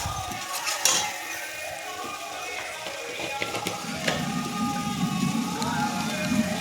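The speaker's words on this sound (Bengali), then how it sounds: "মিনিট 10 মতো ভালো করে নাড়াচাড়া করে নেব" Fish curry masala for a Bengali bhola fish jhal is stirred in a pan with a spoon, giving scraping clinks and a soft sizzle that grows steadier in the second half, close and fairly quiet.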